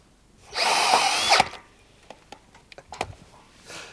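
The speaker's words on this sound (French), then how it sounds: "on va visser avec 4 vis de chaque côté pour avoir une rigidité maximale" A power screwdriver drives a screw into a wooden deck beam splice plate joining two beams: one sustained loud whir of about a second, then scattered clicks and knocks of handling afterward.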